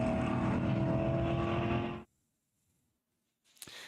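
A race car at New Jersey Motorsports Park during the Jersey Road Racing Classic, its engine roaring loudly for two seconds before cutting to near silence, then faintly returning.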